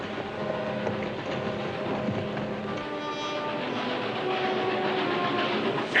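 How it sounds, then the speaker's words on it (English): A train approaches in a 1966 Wild West film scene, a steady rumbling roll with faint clickety-clack that swells slightly toward the end, heard alone without talk. "Drago, the train's coming."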